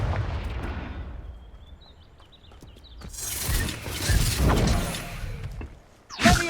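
Confringo fire spell blasts in Hogwarts Legacy combat, booming explosive bursts with crackling debris and a roaring swell mid-way, followed by a sharp final blast.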